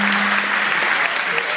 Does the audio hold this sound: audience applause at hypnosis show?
yes